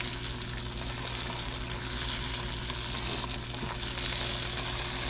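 Close, continuous sizzle of butter frying a hotdog in a pan, a dense even crackle that swells slightly toward the end, with no voices over it.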